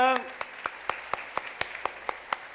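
A slow, steady round of clapping for a church choir, around ten evenly spaced claps, follows a brief bit of speech at the start.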